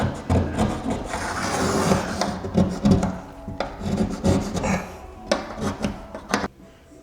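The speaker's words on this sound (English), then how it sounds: "So I'm just scraping the excess mud that's sticking out." A putty knife scrapes excess drywall mud off a ceiling during an LED light installation, giving steady rasping strokes with a few sharper scrapes, close and fairly loud with no talking.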